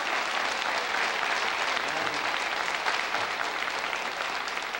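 Audience applause at a live country music tribute show, a broad, even wash of clapping from a crowd that carries on steadily at moderate volume throughout.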